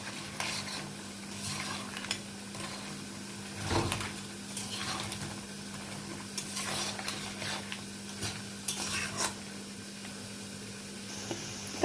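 Crab curry being stirred and fried in a pan, with soft intermittent scraping of a spoon against the pan over a steady low sizzle, close and fairly quiet.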